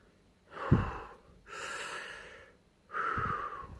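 A performer demonstrates audible breathing with three slow breaths: a sharp gasping intake, then a long sighing exhale, then another drawn breath, heard alone and fairly close in a quiet room.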